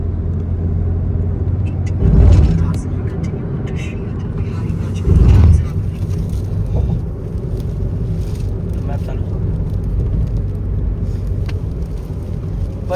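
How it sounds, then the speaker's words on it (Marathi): A car on a road trip drives along the highway, heard from inside as a continuous low road rumble with two short louder bursts early on, like passing over rough patches or vehicles going by. "बाकी आता गाडी चालू आहे."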